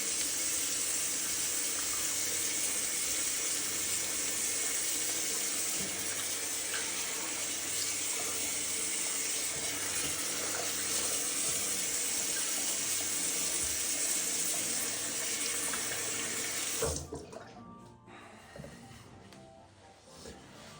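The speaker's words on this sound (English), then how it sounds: "Let's clean our face. Please excuse the sink." Tap water pours steadily into a bathroom sink during face washing, a loud, continuous close rush that cuts off abruptly near the end, leaving faint drips and handling noise.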